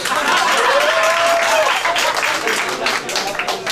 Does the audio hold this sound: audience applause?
yes